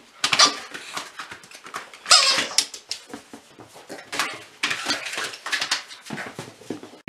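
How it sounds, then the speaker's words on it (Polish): Balls drop into a foldable dog pool with light irregular taps, rustles and plastic knocks, close and moderately loud, without talk. "Tutaj możemy powkładać różne piłeczki."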